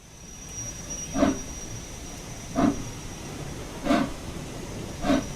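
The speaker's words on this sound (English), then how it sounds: "We're still pumping up the train though, you can hear the compressor running." Train air compressor running in Train Sim World on a GWR Goblin Suffragette service, a steady hiss under four evenly spaced squealing brake bursts while the train pulls against its brakes.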